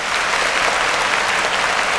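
An audience at a Tamil New Year debate event applauds, a steady dense wash of clapping from many hands filling the room, loud and continuous throughout without any speech over it.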